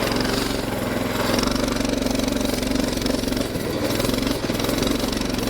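Mini bike engine running steady and loud while riding over bumpy snow on studded tires, a constant mid-pitched drone with slight surges and no talk.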